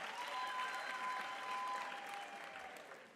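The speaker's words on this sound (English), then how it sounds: "Can we also give her a big round of applause" Applause from the audience at a University of Limpopo autumn graduation ceremony in 2022: a full, sustained wash of clapping in a large hall that fades slightly near the end.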